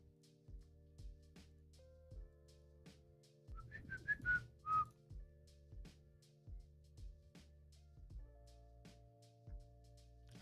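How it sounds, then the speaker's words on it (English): A short whistle tone comes from a computer's speakers, a few brief rising pitched notes over a steady background hum, faint and heard alone without talk. "I just heard my whistle"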